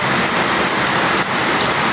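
Heavy monsoon rain pours down without pause, a dense, loud hiss of drops hitting surfaces, steady and close with no wind or voices.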